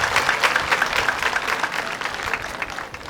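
A crowd at an outdoor Liberation Day ceremony in Kamonyi district, Rwanda, applauds to thank a local leader. The clapping is dense and steady, sustained for about three seconds and fading slightly at the end.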